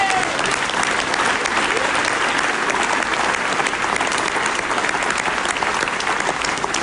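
Audience in a hall applauding loudly and continuously at a mayor's New Year address in Aulnay-sous-Bois, dense even clapping sustained throughout with crowd murmur beneath.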